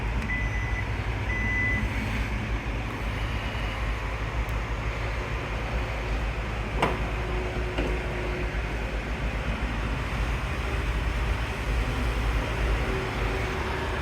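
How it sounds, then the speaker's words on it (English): Warning beeps sound as the power cargo liftgate of a 2025 Hyundai Santa Fe Calligraphy closes, a steady tone over constant low outdoor rumble with a brief sharp knock near the middle. "tap this button here to close the cargo area and to lock the vehicle."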